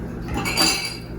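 A brief clinking clatter as cut peach pieces drop into a glass mixing jar, a bright glassy chink swelling then fading within about a second, alone without speech.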